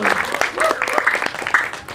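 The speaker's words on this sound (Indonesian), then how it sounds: "mohon berikan tepuk tangan" A concert crowd applauds the band, uneven bursts of clapping heard close, with voices mixed in over the clapping.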